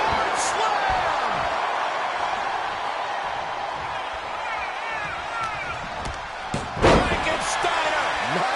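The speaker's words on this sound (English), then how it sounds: "Ripcord slam." A ripcord slam landing in a WWE 2K23 online wrestling match, a sharp heavy impact thud late in the clip over crowd noise and ongoing commentary voices.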